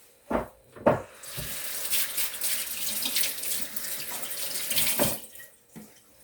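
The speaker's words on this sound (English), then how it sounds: "Let me rinse my hand off." Water runs from a kitchen tap as sticky muffin dough is rinsed off a hand, starting with a couple of splashy bursts and then a steady close stream before the flow stops.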